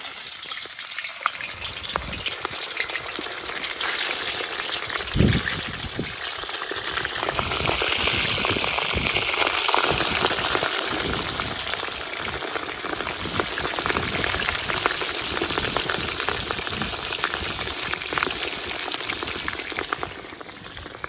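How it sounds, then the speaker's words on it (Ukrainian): Pork ribs frying in heated oil in a kazan for plov, a loud, steady close-up sizzle and crackle that swells after a sharp knock, continuing without pause. "Розігріту олію ложимо ребра"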